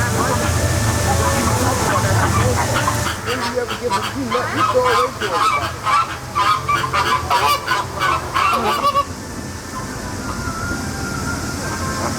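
A flock of flamingos honks loudly in rapid, overlapping bursts for several seconds, then quiets, over a background rumble and distant voices at SeaWorld Orlando.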